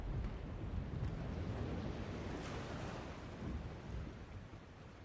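Storm in The Longest Journey video game: a continuous roar of wind and rumbling thunder, steady and loud throughout with slight swells, no voices.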